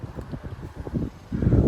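Gusty wind reaching 30 mph in Frisco, Texas buffets the microphone with continuous low, rumbling bursts that swell and grow louder toward the end.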